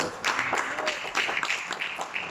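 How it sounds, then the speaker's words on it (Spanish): A church congregation gives a brief burst of applause, many hands clapping fairly softly and unevenly across the room for a couple of seconds. "¿Cuánto le dan un fuerte aplauso al Señor?"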